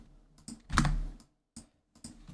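Typing on a computer keyboard during a Blender tutorial, a handful of separate close key clicks with one heavier thump, spaced unevenly with quiet between them.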